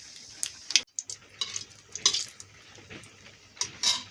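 Torn dried chillies and black cumin seeds crackle and sizzle in hot oil as the tempering for a Bengali vegetarian dish, with close stirring scrapes and clinks and no talk.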